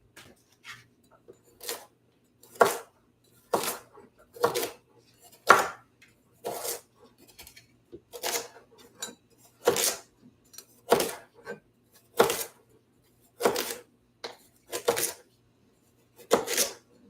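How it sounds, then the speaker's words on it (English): A knife chops carrots and sweet potato on a cutting board for meal prep, with about two dozen crisp, evenly spaced thuds in a steady rhythm, close and clear with no talking. "I'm going to cut up my carrots and my sweet potato"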